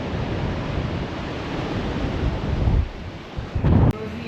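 Strong coastal wind of about 25 knots roars in continuous broadband buffeting across the microphone, with louder gusts near the end, over a faint wash of whitecapped surf and no talking.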